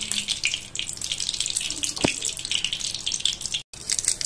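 Onions and seeds fry in hot oil in a pan, giving a steady, close sizzle dotted with crackles and pops throughout.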